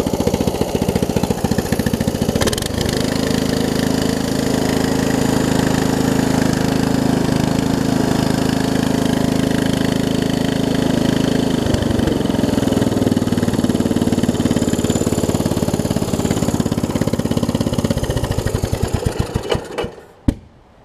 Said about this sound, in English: Good, it idles down too. It idles down real low.